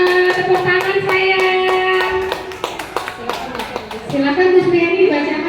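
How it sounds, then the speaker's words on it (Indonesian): A small group claps at an individual mentoring session for teacher candidates in Tangerang, with a run of sharp, close hand claps breaking through steady talking voices. "Tepuk tangan saya."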